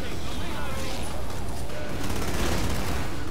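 Dense, continuous gunfire from the video game Killing Floor, loud and sustained throughout with chaotic bursts and crashes, while a voice talks over the shooting.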